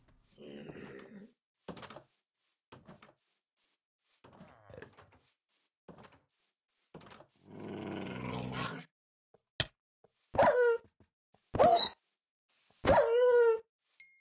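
Dog barking in the Minecraft video game: several sharp, loud barks in a row near the end, preceded by a player speaking and a burst of rustling game noise.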